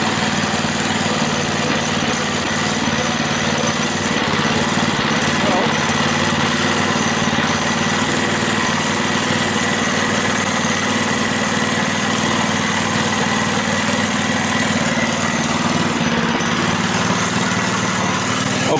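A Monster Moto mini bike's small engine idles steadily and loudly for the whole stretch, a constant even drone with no revving.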